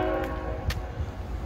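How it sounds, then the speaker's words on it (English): Train horn from a train passing through a historic downtown square in Newberry, South Carolina, a steady distant horn sounding continuously over low rumble for the whole stretch. "sound of trains"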